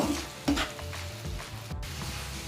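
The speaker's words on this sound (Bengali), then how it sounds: "আর টমেটো কুচি দিয়ে আমি ভালো করে এটা নাড়ব।" A spoon stirs chopped tomatoes and capsicum in a hot pan for shakshuka, with soft scraping strokes over a light sizzle, close and moderately loud, and no speech.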